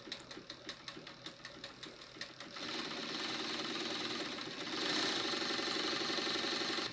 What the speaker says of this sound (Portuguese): Para confirmar, acione o enchedor e pise no pedal de acionamento do motor.